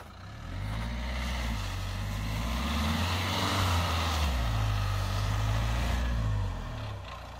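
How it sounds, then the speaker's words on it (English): A 4x4 car on General Tire Grabber AT3 tires struggles in deep mud on a sideways incline. The engine revs up and down in repeated surging waves, loud and close, as the wheels spin. "Observe here the 4x4 fail in deeper mud with some extra lateral incline."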